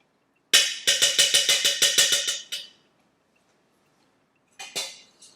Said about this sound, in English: I'm going to mix this up a little bit so it's a little more creamy.